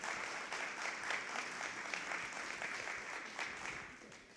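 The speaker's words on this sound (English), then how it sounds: "Let's give him a round of applause." Applause from an audience at an annual meeting held in a former R&D center building, a steady patter of clapping that is soft and somewhat distant, fading slightly at the end.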